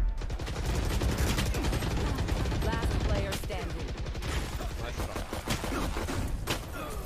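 Dense gunfire in the video game Valorant, rapid automatic bursts and sharp shots crackling almost continuously, loud and close, with a voice speaking over parts of it.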